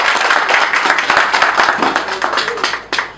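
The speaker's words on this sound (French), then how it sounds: "Applaudissez," An audience at the award ceremony of a motorcycle-taxi football tournament in Labé, Guinea, breaks into dense, fairly loud applause, with sharp hand claps standing out above a busy wash of noise.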